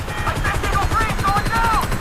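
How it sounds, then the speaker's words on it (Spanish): A helicopter and bursts of gunfire in the video game GTA 5 (Grand Theft Auto 5), a steady loud rotor-like rumble with rapid shots, while a voice talks over it throughout. "vamos a tirar ese helicóptero."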